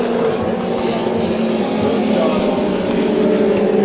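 Legend race cars run at the Bullring oval at Las Vegas Motor Speedway, their engines making a loud, steady, close droning roar throughout.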